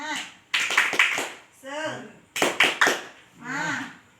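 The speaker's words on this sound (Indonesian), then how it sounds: "Tepuk semangat." A group of women, including elderly participants, performs a rhythmic spirit clap in a community session, bursts of patterned hand claps alternating with chanted voices, close and lively.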